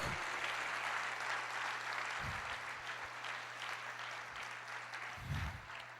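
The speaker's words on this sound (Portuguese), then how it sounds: "Você pode aplaudir o Senhor, glorificar o nosso Deus." A church congregation applauds in a steady, diffuse wash of clapping that carries on throughout, with a low hum underneath and brief louder bursts.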